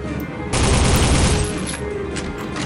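A powerful handgun fires in the shooter game Soldier of Fortune, a loud, close burst of rapid overlapping shots lasting about a second, then fading into quieter echoing game noise.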